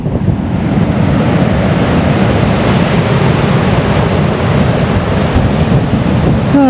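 Pacific Ocean surf and strong wind beside sand dunes in Fiji, a loud continuous roar of breaking waves mixed with heavy wind buffeting on the microphone, steady throughout with no talk.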